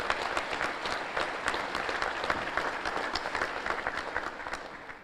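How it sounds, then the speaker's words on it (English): An audience at the Monroe Chamber of Commerce luncheon applauds in a steady, dense wash of clapping that holds at an even level for several seconds, with no voices over it. "Please give them all a round of applause"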